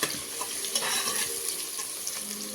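Onions browning golden in oil for mutton biryani, a steady close sizzle with stirring scrapes and small crackles throughout.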